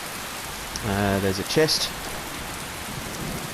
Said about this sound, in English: Back outside, where it is still raining.